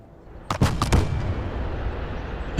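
Artillery fire in the Broken Arrow video game: three quick booming shots in close succession, followed by a lingering rumble that fades before another rise at the end.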